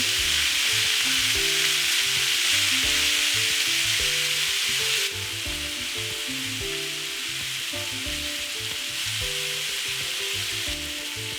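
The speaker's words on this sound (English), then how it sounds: "I will leave it on very high so that it gets a very beautiful sear at the bottom." Beef pieces searing on very high heat in a hot pan for a Kenyan beef wet fry, a loud continuous sizzle with crackling and occasional stirring clatter, easing slightly halfway through, no voices.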